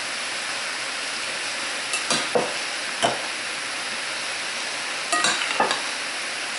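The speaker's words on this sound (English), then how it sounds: "So we're frying it still," Pork and bacon stir-frying in a pan, a steady broadband sizzle running throughout with a few brief louder crackles and stirring scrapes near two, three and five seconds, close and alone.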